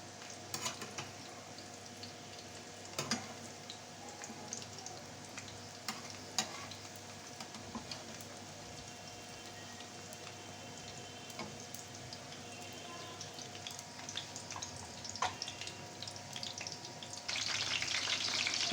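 Jali kabab patties fry in oil in a large pan, giving a steady sizzle with occasional clinks and scrapes of a utensil, and the sizzle swells louder near the end.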